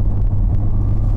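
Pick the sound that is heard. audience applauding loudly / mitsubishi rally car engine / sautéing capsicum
mitsubishi rally car engine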